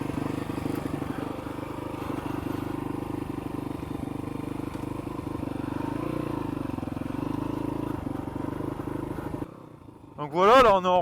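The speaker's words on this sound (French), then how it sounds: "La moto a toujours sa chicane. Elle reste silencieuse." A dirt bike with its exhaust baffle still fitted runs with a subdued, steady engine drone for about nine seconds, then cuts off abruptly, followed by a brief warbling voice-like sound.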